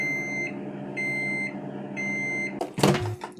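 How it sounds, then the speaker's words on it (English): Microwave oven finishing in a home kitchen, three evenly spaced electronic beeps, each about half a second, followed by the door clunking open with a rattle. "Wonder who invented the microwave beeping sound."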